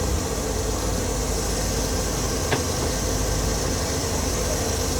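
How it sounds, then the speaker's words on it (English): A boat engine runs at a steady idle, giving a continuous low rumble and broadband hiss for the whole stretch, with a single brief knock near the middle and no voices. "Okay, starting the engine."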